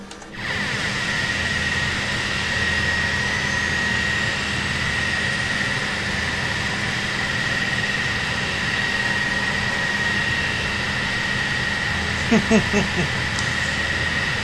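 Jet engines of an E-3 Sentry AWACS aircraft roar from outside in the MSFS2020 flight simulator. The loud, steady drone has a high whine over it, and a few brief clicks come near the end.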